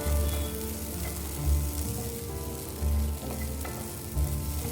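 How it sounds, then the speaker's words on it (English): Raw papaya stir fry sizzles steadily in a pan. Soft, continuous frying hiss runs throughout, with a few louder low bumps from stirring, close and fairly quiet, with no talking. "raw papaya stir fry."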